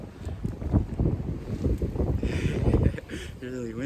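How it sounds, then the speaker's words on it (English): Strong wind buffets the microphone in loud, gusting bursts outdoors, with a steady roar that swells and eases over a few seconds while a person speaks faintly underneath. "Well, the wind really picked up."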